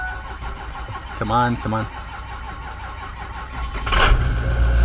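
The engine of a vehicle won at auction cranks with a couple of strained starter bursts, then catches and fires into a rough, rising run up close, while a man urges it on underneath.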